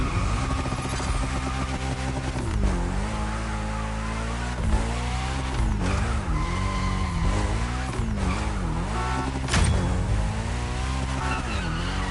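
A car drifts in the racing game The Crew Motorfest, its engine revving loudly and steadily with repeated rising and falling pitch sweeps and tire skid squeal throughout, with no talk.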